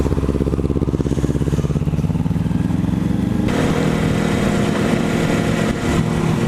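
A Kawasaki Ninja 400 fitted with a slip-on exhaust runs hard on a dyno, its engine note climbing steadily in pitch through the revs, loud and close, with a sharper roar at higher rpm.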